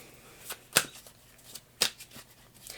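Tarot cards are handled and shuffled close up, with soft rustling and a few sharp riffling snaps at irregular intervals, quiet and without speech.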